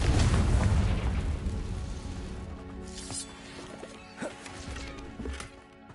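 A Confringo spell explosion in Hogwarts Legacy, a loud, deep boom that rumbles and fades over several seconds, with small crackles and debris pops trailing in the decay.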